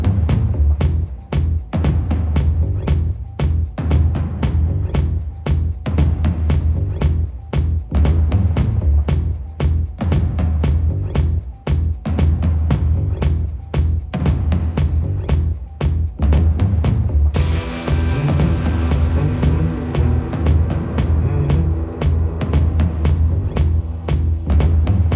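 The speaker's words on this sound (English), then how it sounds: "as you can hear, the heavens have opened. It is absolutely chucking it down at the moment." Heavy rain pours down outdoors in the New Forest in autumn, a loud, dense, continuous roar with close spattering impacts that never lets up.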